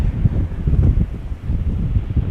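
Gusty 13 knot wind at Schiphol Airport buffets the microphone with a low, heavy rumble that swells and dips without pause, no voices.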